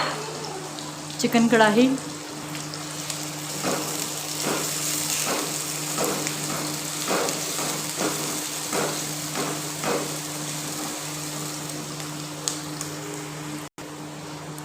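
Peeled garlic fries in a pan for a chicken and pea curry, giving a steady low sizzle with occasional stirring taps, mostly under a voice talking.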